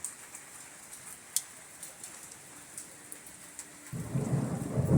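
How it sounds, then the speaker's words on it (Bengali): Rain hisses steadily, then a low rumble of thunder swells up near the end and grows louder. "এই যে বৃষ্টি পড়ছে আর বিদ্যুৎ চক বাচ্ছে"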